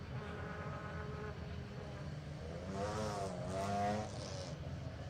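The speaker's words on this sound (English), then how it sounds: "the distinctive noise of that BMW as they head into the stage" A BMW 325 rally car at the Harlech Stages rally drives into a stage, its engine a steady, fairly distant drone that rises in pitch and swells louder for a moment before settling again.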